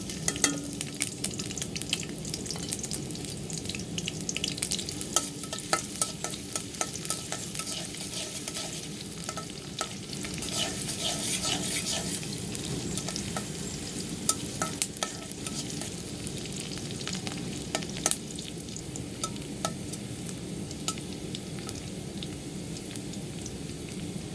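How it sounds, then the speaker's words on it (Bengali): Chopped onions fry in hot soybean oil in a kadai for a fish-head and potato dish, a continuous close sizzle full of dense crackles and spits, steady throughout with no talking. "সয়াবিন তেল গরম হয়ে গেছে এখন পেঁয়াজ কুচি দিয়ে দিব"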